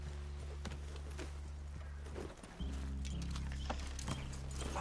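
Horses in Red Dead Redemption 2 give soft clip-clop hooves and movement sounds under a steady low drone, with no clear whinny and no talking.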